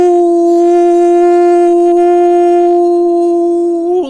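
A single loud, sustained howl holds one steady tone for about four seconds before rising slightly and breaking off, close and alone with no talk.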